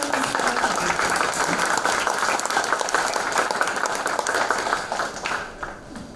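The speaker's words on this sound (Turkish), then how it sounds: "Sayın İrfan Mutlay'ı alkışlayalım." An audience at a Turkish panel event on village institutes and local government applauds a speaker's introduction, giving sustained dense clapping that fills the room and thins out toward the end.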